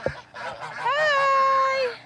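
Farm geese and ducks call at close range, with a short squawk followed by a long, nasal, drawn-out honk lasting over a second.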